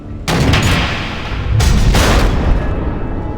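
Missile explosions in Batman: The Enemy Within, a loud sustained barrage of booms with two heavy bursts rising over a continuous roaring rumble.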